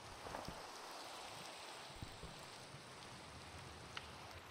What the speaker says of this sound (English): I don't want to go out there because it's raining.